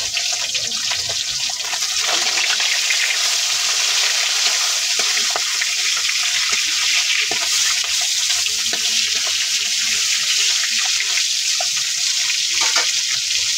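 Fish frying in a pan in a home kitchen, giving a steady, loud, wet crackle of hot oil that runs unbroken with scattered pops and sputters.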